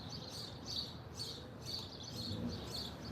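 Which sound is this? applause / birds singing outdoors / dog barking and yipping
birds singing outdoors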